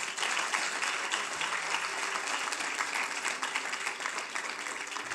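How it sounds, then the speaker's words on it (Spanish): A church congregation applauds in a steady, even wash of many hands clapping, sustained and fairly distant with no break. "Den un aplauso al Padre por esto."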